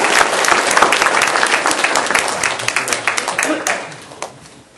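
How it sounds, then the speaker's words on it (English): An audience at an Easter children's event gives a lively round of applause. Dense clapping swells at the start and then thins to scattered claps and fades near the end. "let's give them a round of applause"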